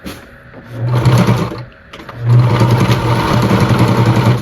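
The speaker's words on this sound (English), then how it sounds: "So I'm just going to stitch around because suede can be fuzzy" A sewing machine edge stitching around suede leather for a hanging planter, a loud close motor hum that runs, pauses briefly, then runs steadily again.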